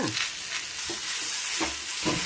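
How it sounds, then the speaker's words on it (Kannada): Chopped tomatoes and fresh coriander leaves frying in an oil-filled pan, a steady close sizzle broken by several scraping stirs of a spoon or spatula, no voices. "ಸ್ವಲ್ಪ ಕೊತ್ತಂಬರಿ ಸೊಪ್ಪು ಅದು ಹಾಕ್ಕೊಂಡು ಚೆನ್ನಾಗಿ ಫ್ರೈ ಮಾಡ್ಕೊಳ್ಳೋಣ"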